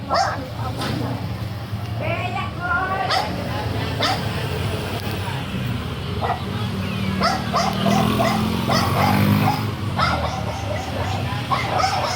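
A dog barks and yips several times at irregular intervals, fairly close, with people talking in the background throughout.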